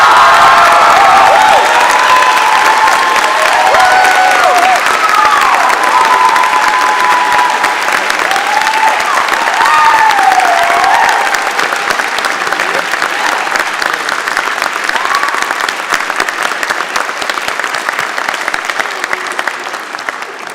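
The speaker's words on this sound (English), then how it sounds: "graduates, a round of applause for the faculty members" Graduates at a spring convocation ceremony applaud the faculty, a loud, sustained roll of hall-filling clapping with some cheering and whoops that slowly tapers toward the end.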